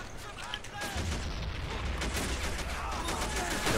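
Troops fire in Men of War: Assault Squad 2 with a dense, continuous rattle of gunshots and booms, close and sustained with no breaks.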